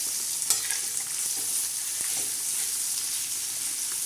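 Chopped onion and tomato frying on a tava hiss in a continuous bright sizzle, broken by a few soft clicks of the spoon stirring, with nobody speaking.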